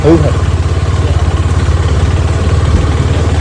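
A motorcycle engine runs while riding on a village road, a loud, close, steady low throbbing pulse with some voices over it.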